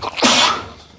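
A single sharp sneeze bursts out loud and close, a quick intake followed by a forceful breathy blast that trails off within a second, with no talk over it.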